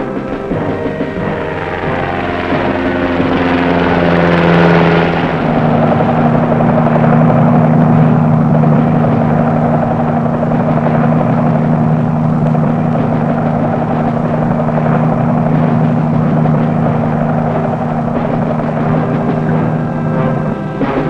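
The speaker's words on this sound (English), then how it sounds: "Armed Navy patrol boats and gunship helicopters answer the challenge." Military gunship helicopters fly close overhead, a loud continuous rotor roar with steady throbbing that swells in the first seconds and holds for about twenty seconds, no voices.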